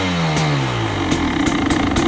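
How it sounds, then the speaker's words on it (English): A 2020 KTM 300 XCW TPI two-stroke dirt bike idles roughly right after a cold start on a chilly morning, a steady close engine drone broken by a few sharp crackling pops. "This is a cold start, super cold."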